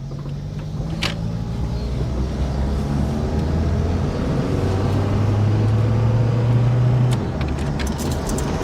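Steady, loud in-car engine drone and road rumble of a 1985 Honda Accord under way, the engine note rising and falling slightly as it holds and changes speed, with no voices.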